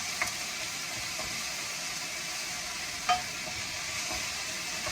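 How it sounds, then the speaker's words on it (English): Fried rice frying in a wok over high heat, a steady, close hissing sizzle with a few faint clinks of a utensil, no speech. "it's starting to fry up real pretty and nice"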